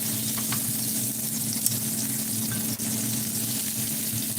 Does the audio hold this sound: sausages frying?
yes